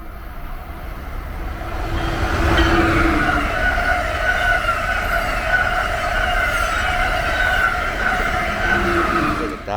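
A train rolls along past a station platform, a steady loud rumble with sustained tonal squeal rising around two seconds in and holding near and constant to the end.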